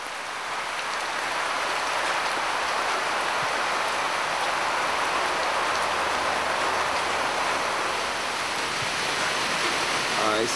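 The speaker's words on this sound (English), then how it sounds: "It's starting to pour with rain now in the middle of the night. Absolutely pouring down, and looking here on the corrugated iron roof." Heavy rain pours onto a corrugated iron roof at night in Mozambique, a loud, dense, unbroken roar that holds steady throughout with no voices over it.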